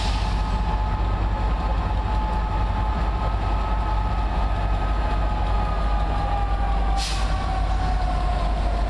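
A locomotive-hauled passenger train behind Class 67 diesel 67006 in Scotland, a steady low rumble and engine drone running continuously, fairly close, with no talk.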